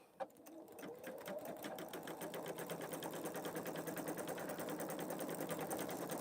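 Pfaff Creative Vision embroidery machine stitching with large silky thread, a fast, even mechanical chatter of the needle that runs continuously and steadily, close and moderately loud.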